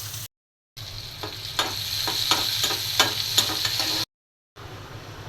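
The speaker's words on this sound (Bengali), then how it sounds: "পেঁয়াজটা রসুনটা ভেজে নিলাম" Onion and garlic fry in a pan while a spoon stirs them. A steady close sizzle runs throughout, with repeated sharp scraping strokes and brief gaps of silence. No one speaks.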